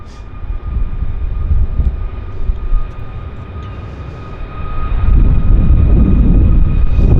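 A WestJet airliner's jet engines roar at an airport, a steady broad rumble that swells louder in the final seconds as the aircraft passes close.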